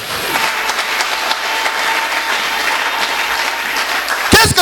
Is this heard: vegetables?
no